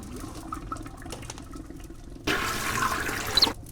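A toilet flush in the video game Chaos on Deponia, a sudden loud rushing gush of water that starts abruptly and cuts off after about a second, over quiet background sound.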